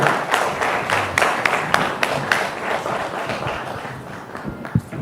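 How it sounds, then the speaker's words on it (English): An audience at an AI summit gives a round of applause, scattered claps blending into a moderate, slightly uneven patter that gradually thins toward the end. "they'll give you another big round of applause"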